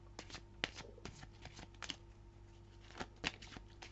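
Tarot cards being shuffled and drawn at close range: a run of quiet riffling flutters and sharp card snaps, irregular and soft, with no talk over them.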